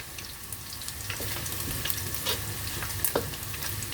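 Vegetables stir-fried with Chinese sausage in a hot pan, a close sizzle broken by scraping stirs and the clatter of a utensil, with no voices.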